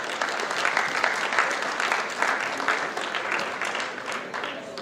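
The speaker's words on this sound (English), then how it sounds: "A round of applause for them, please." A school graduation audience applauding the stage team, a full wash of many hands clapping, steady and sustained throughout at fairly strong level with crowd murmur underneath.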